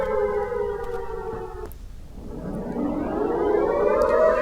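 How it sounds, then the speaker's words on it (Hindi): Civil defense air raid sirens wail over the southern Israeli city of Eilat during an Iranian ballistic missile attack, a steady distant tone that dips and then rises again, with no voices. "ईरान के हमले के बाद इलात में सायरन बजे।"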